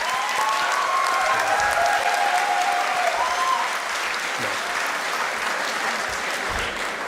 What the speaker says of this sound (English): Vaibhav, Madhurya and Shrikant team needs a big round of applause.